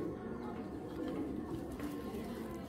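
Low, soft cooing of a racing pigeon runs steadily throughout, a continuous murmuring rumble close by with faint background noise.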